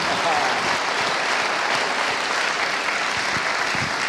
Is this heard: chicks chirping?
no